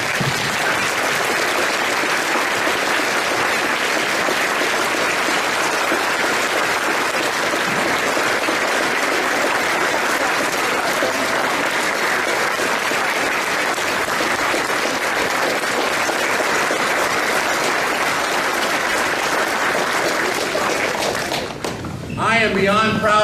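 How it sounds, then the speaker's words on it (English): Sustained applause for school staff at an 8th grade promotion ceremony, loud and continuous for nearly the whole stretch before breaking off briefly at the end. "I want to give a round of applause for each one of our staff members at WGS"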